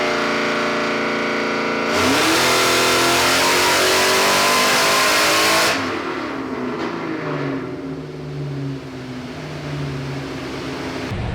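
A Terminator Ford Mustang with Holley EFI screams at full throttle on a dyno, holding a loud, climbing roar for several seconds before cutting off abruptly and settling into a lower, burbling idle.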